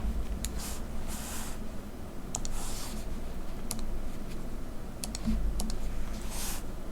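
Typing on a computer keyboard while writing C code, soft scattered key clicks in short bursts over a quiet room hum, fairly faint and without talk.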